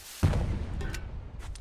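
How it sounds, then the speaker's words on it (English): A bomb launcher fires in the video game Blazing Sails, giving a single heavy boom with a rumbling tail that trails off, and faint clicks follow. "Would I recommend it? Of course, it's a grenade launcher."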